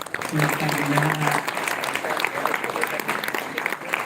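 Audience applause at a Samajratna award ceremony in Dadar, Mumbai, a steady wash of clapping throughout with a voice speaking over it near the start.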